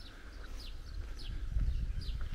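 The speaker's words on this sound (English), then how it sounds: "You can hear the birds" Birds sing along the Camino Portuguese through open countryside, a few short high chirps and whistles repeating at intervals over faint low wind and background rumble.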